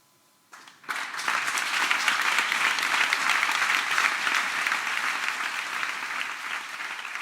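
Applause in a theatre breaking out after a brief silence, swelling quickly into loud, dense, sustained clapping from a large audience that holds steady throughout.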